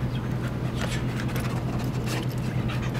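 A dog pants and whimpers steadily and close by during an obedience training session, a continuous breathy rasp over a low hum with no clear pauses.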